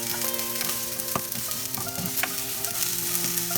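Sesame seeds, poppy seeds, chopped green chilies and onion roast in a pan, giving a steady close sizzle with occasional sharp ticks and scrapes from stirring.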